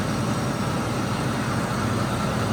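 A running engine on a farm vehicle in near-freezing weather settles into a loud, steady idle with a rough, low rumble, close by, no voices and no audible start.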